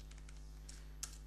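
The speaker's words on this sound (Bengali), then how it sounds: "এন্টার দিলাম" Quiet computer keyboard typing: a handful of soft, close key clicks in a light patter, ending with one slightly sharper keystroke like the Enter key being pressed, with no talking.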